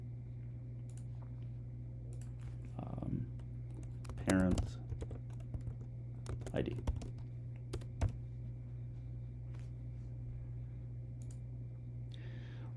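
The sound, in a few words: computer mouse clicking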